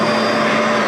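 A built-in central vacuum system in a 2022 Jayco Pinnacle 36FBTS RV runs with a loud, steady whooshing motor roar.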